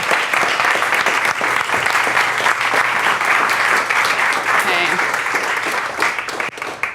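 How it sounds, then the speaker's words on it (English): A lecture audience breaks into sustained applause as a primatology speaker is introduced. The clapping is dense, even and loud from start to finish, with no voices over it. "A big round of applause for Elizabeth Lonsdorf."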